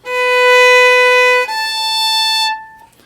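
Two sustained bowed violin notes, G then A, a whole tone apart, ringing clear and alone before fading out.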